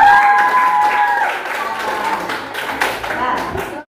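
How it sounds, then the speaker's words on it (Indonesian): A classroom group claps together in a brief burst of applause, lively and close, with voices mixed in before it cuts off abruptly. "Tepuk tangan dong buat."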